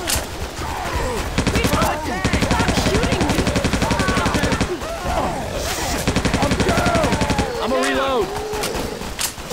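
Rapid bursts of automatic gunfire at zombies in the game Hard Rain, sustained loud runs of shots broken by short pauses, with voices talking over the shooting.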